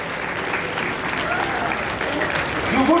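Graduating students of the Class of 2023 give their parents a steady round of applause in a crowded ceremony hall, many hands clapping together at an even level under a speaking voice.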